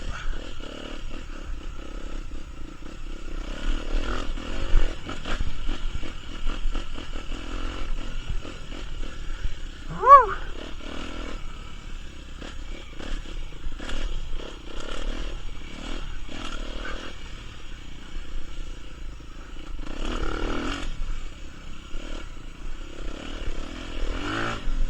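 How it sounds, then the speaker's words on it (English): Honda CRF250RX enduro motorcycle ridden off-road, a steady engine drone running throughout with surging throttle changes, clattering and scraping from the terrain, and a brief sharp squeal near the middle. "God, I love the sound of this bike."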